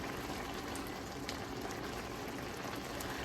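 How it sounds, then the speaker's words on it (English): Water pours into a pot of simmering rice porridge, a steady close gush and burble of liquid running for a few seconds without any voices. "I'm gonna add some more water to it though, just a little bit, because I do want some juice in it."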